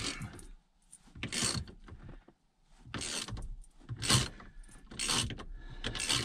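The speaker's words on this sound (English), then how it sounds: "we'll take a T50 Torx bit, break this bolt loose." A ratchet turns a T50 Torx bit to break a steering wheel bolt loose on a 2005-2011 Ford Crown Victoria, giving several close, faint mechanical clicking and straining bursts separated by short pauses.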